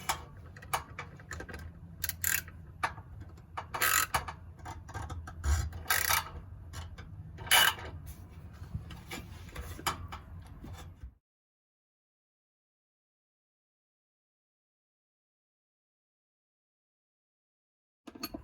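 A ratchet wrench turning a nut on a Subaru Impreza WRX shifter bushing, heard up close as a series of quiet clicks and ticks over about eleven seconds, then near silence.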